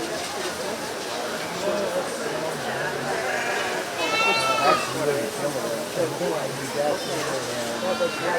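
Sheep bleat at a 4-H county fair sheep show, several clear wavering calls near the middle and end rising over a busy crowd murmur with people talking throughout.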